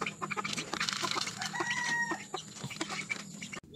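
Backyard chickens being fed cluck and murmur in a busy, overlapping chatter, with a drawn-out call rising in the middle, all at moderate distance and fairly soft.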